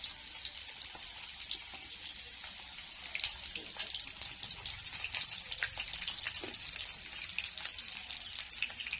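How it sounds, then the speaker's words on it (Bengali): Fish heads frying in a pan make a dense, continuous crackling sizzle with scattered sharp pops throughout, close and steady at moderate loudness, with no talk. "মাছের মাথাগুলো ভেজে মা রেখে দিয়েছিল ফ্রিজে, এখন যেহেতু রান্না করবে তার জন্য একটু ভালো করে ভেজে নিচ্ছে"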